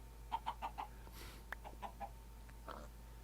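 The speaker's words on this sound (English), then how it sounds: "We got some chickens, and we got 2 of them" Chickens in Minecraft cluck in a quick run of soft, faint clucks, followed by a few more scattered clucks, with no talking.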